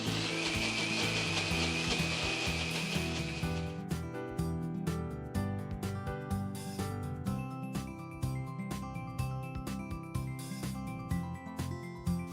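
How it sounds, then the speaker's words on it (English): A blender whirs loudly while blending green chutney, a steady high motor whine for several seconds before dropping to uneven pulsing grinding and clattering. "Now let's blend this together to get that smooth"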